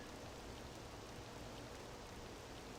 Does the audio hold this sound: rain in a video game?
yes